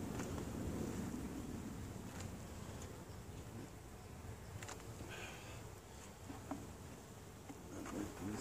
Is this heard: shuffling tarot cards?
no